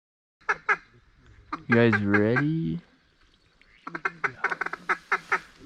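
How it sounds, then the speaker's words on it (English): Geese calling close by on a small pond during a duck hunt, a run of honks and quacks with a sustained cackling call, while hunters talk quietly over them. "Geese."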